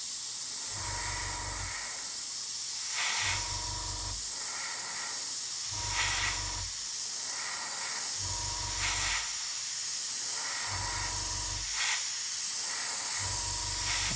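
An airbrush sprays a thinned 50-50 paint mix in evenly spaced hissing bursts, about seven of them, each roughly a second long with short pauses between, heard close and fairly quiet.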